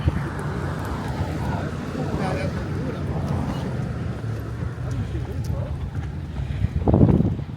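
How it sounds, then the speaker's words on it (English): Wind buffets the microphone with a continuous low rumble in Queenstown, New Zealand, swelling into a stronger gust near the end, with faint outdoor background noise. "It's a little bit windy."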